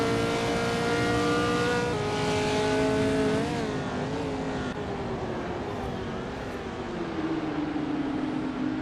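A 1966 McLaren M10A Formula 5000 car and rival racers at Sochi Autodrome in a racing video game, with steady, loud engine drones that rise and fall in pitch as the cars accelerate and shift, with no talking.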